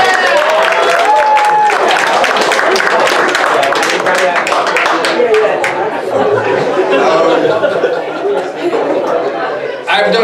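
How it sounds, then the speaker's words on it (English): A comedy club audience at an open mic night claps and chatters, with scattered laughs and loud continuous applause for a comedian. "would you please allow me to show my gratitude and give Quentin Roses Week a round of applause"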